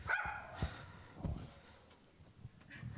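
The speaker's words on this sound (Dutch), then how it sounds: "De hond is thuis." A dog barks a few times from inside a house, faint and somewhat distant, with short sharp yelps separated by quiet pauses.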